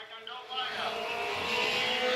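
KMSA Mini Stock race cars roar around an oval track during a preliminary event, a steady rising engine drone building in loudness across the clip, with a commentator talking over it.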